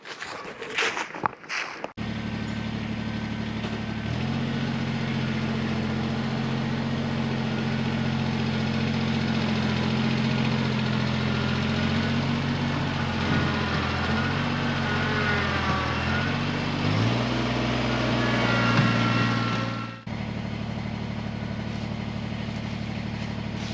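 A tractor's heavy engine idles and then runs with a steady low rumble for about twenty seconds, its pitch shifting a few times before it cuts off.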